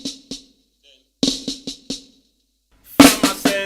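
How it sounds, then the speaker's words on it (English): Drum flam ascent blended with a flam paradiddle, crisp snare strokes with grace-note flams in short bursts separated by gaps, ending in a louder, denser flurry. "taking the second portion of the Flam Ascent and the second portion of the Flam Paradiddle and playing them together"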